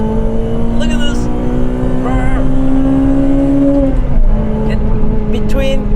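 A Honda Civic Type R FD2 engine revs hard toward 8,000–9,000 rpm, a loud, rising high-pitched wail heard from inside the car with a brief dip around a gear change before climbing again; a person talks over it.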